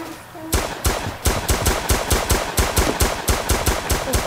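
Rapid automatic gunfire in the shooter game Phantom Forces, loud and near, a steady run of sharp repeated shots with only brief gaps, no talk.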